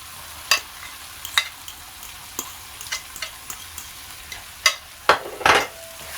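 Scrambled eggs (three) being stirred into a sizzling street-style egg bhurji gravy in a pan, with soft frying hiss underneath and scattered sharp utensil scrapes and clinks, louder toward the end.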